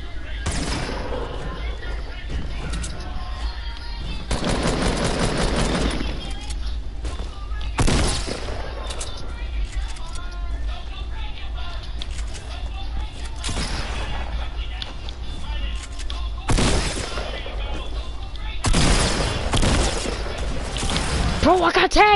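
Video game gunfire in a multiplayer shooter, with repeated bursts of rapid shots and booms separated by brief lulls, loud and continuous under players talking.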